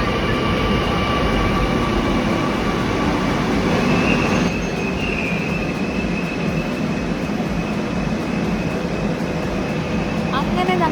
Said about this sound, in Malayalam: അപ്പോൾ മെട്രോ വരാറായിട്ടുണ്ട് നമ്മുടെ ട്രെയിൻ.